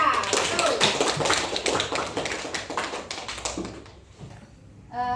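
Classroom of pupils clapping for a student group during an Islamic studies lesson, a dense burst of many hands for about four seconds that thins out, followed by a teacher's voice speaking.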